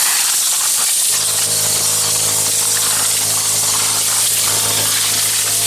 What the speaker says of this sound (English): you always want to blow the trash out because you don't want that in your motor